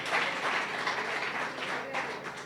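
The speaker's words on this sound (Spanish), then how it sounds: "Si vas a aplaudir a Dios, apláudelo." Church congregation at a Sunday evangelical service applauding, a steady wash of many hands clapping together, fairly close and even throughout.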